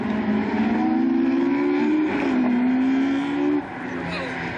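Peugeot and Citroën rally cars race along a Welsh stage, a loud engine note rising under acceleration and then shifting gear, with a commentator talking over it.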